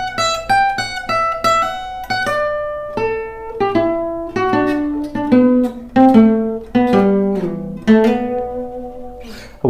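A slow acoustic guitar lick, single plucked notes ringing out one after another, descending and then lingering on lower tones, clear and close.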